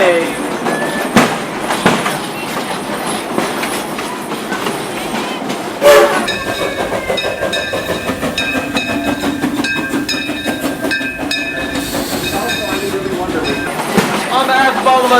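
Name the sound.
train ride on the Frisco Silver Dollar Line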